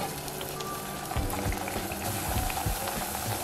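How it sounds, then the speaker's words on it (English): Plantain pieces frying in hot oil in a pan give a continuous close sizzle with scattered pops and crackles throughout. "add the plantain pieces back into the oil to fry for another 2 minutes"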